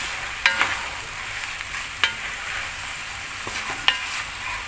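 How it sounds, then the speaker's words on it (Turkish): Chopped zucchini sizzles steadily in a hot pan, with a few sharp clicks and scrapes of a utensil stirring it, no talking. "şimdi doğramış olduğumuz et kabaklarını ekliyoruz. Birazcık da bunları kavuracağız"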